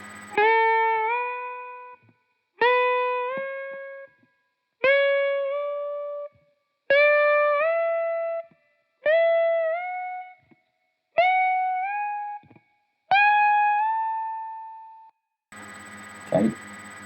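Seven electric guitar string bends, each rising between two distinct pitches and held with a slight waver, separated by short gaps, followed by a brief muted thump.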